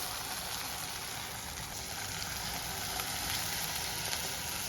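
Steady bubbling and sizzling of a garlic and green chilli curry boiling with added water in a pot, continuous and fairly soft throughout, with no voices.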